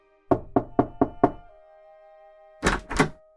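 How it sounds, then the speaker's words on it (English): Someone raps fairly loudly on a door in a hall: five quick, evenly spaced knocks, a pause with a faint lingering hum, then two heavier knocks close and clear. "I crossed over, rapped somewhat loudly"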